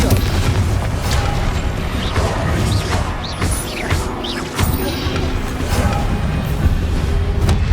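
Confringo explosion spells cast in the video game Hogwarts Legacy, heavy booming blasts and crashes over a dense, constant battle din with swooshing magic effects, continuous and loud throughout.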